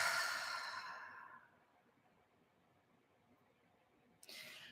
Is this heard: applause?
no